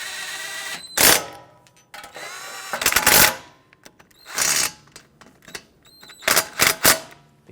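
Small backing shield bolts on a Dodge Grand Caravan steering knuckle are snugged down with a tool in short ratcheting bursts, several quick clicking runs separated by pauses, close and fairly loud.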